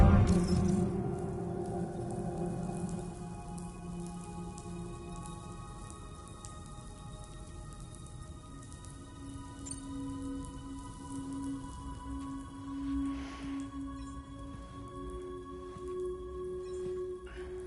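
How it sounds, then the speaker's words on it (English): Steady rainfall in the Death Stranding 2 video game, a constant soft patter of drops on surfaces that runs the whole time, joined by faint tonal game ambience and no speech. "Those raindrops are falling on my head, they keep falling."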